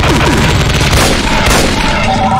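A Revenant variant's minigun in a Doom mod firing a loud, continuous rapid burst of heavy shots with booming impacts for the whole stretch.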